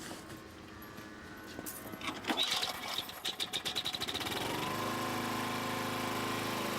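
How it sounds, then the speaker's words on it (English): A gas-powered smoke blower over a sewer manhole sputters and pulses as its small engine catches, then settles into a loud, steady mechanical drone outdoors on a calm day. "At the start of the operation, the smoke blower is located over the manhole"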